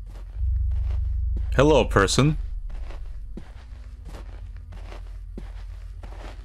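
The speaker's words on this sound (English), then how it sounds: "Your footsteps." Footsteps in a horror video game, at a bus stop at night, fall in an even, soft rhythm throughout, with a brief spoken greeting early on.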